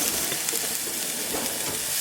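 A fettuccine pasta sauce is stirred in a pan on the stove, giving a steady close wash of sizzling and scraping with no talk over it.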